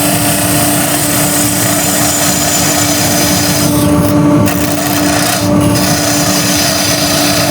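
A wood-turning chisel cuts on a spinning lathe, giving a loud, steady close-up rasping drone over the motor's constant hum, with two brief dips in the scraping partway through and no talking.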